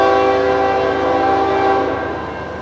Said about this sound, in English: So we have the NS-811 hopper train coming his way west.